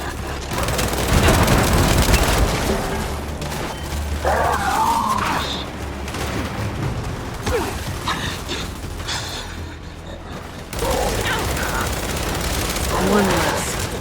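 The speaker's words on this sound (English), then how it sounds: "We're pinned down! We can't deal with those turrets!" In the video game Gears 5, turret fire rattles in rapid bursts alongside explosions and impacts, mixed with shouted voices and game effects throughout.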